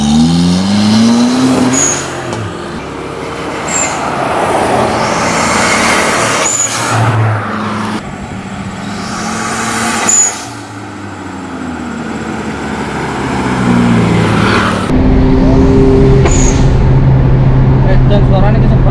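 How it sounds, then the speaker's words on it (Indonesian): A manual Honda Brio 1200 cc fitted with a turbo and a stock ECU revs and accelerates loudly on the road, the engine note rising and falling in repeated pulls, with a voice talking over it. "sebuah turbo, sebuah keong dipasang di mesin Brio 1200 cc manual dengan ECU standar dan internal mesin standar"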